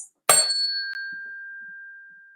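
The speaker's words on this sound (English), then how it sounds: "when you hit a tuning fork, it makes a sound like this." A tuning fork is struck once with a sharp attack, then rings on as a pure, steady tone that slowly fades, close and alone.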